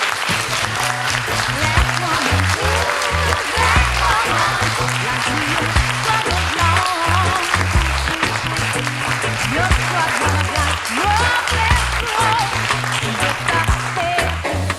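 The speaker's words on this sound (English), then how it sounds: "I want us to keep clapping until she gets it" An audience at a women's empowerment gathering claps continuously and steadily, with music or a rhythmic backing and some voices mixed in as a speaker comes forward.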